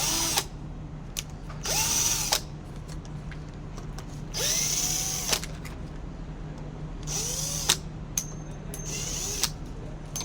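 A power screwdriver whirs in several short bursts, spaced a second or two apart, as screws are backed out of an old electrical wall outlet. It is close and fairly loud, with quiet pauses between the bursts.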